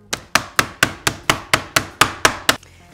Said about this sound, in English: you just wanna pound this until it's even on all sides